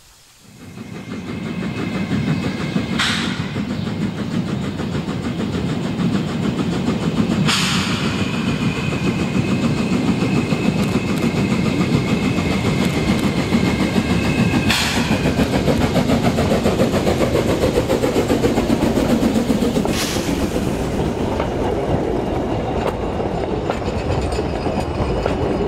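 A narrow-gauge Pollo train hauled by a Rügen locomotive runs steadily and fairly close for the whole stretch, a continuous low rumble of engine and wheels with several sharp high squeals or whistles standing out at intervals.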